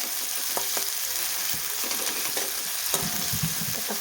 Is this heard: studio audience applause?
no